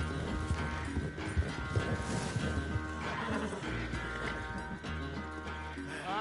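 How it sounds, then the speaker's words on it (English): A horse whinnying in the video game Red Dead Redemption 2, a clear neigh over hoof clip-clops and a layered game soundtrack, close and prominent. "That's my little horse here."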